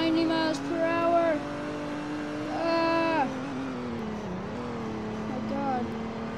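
Car engine in a Roblox roleplay game droning steadily at nearly 90 mph while chasing a police car, tone rising and falling with shifts and revs, with talk over it.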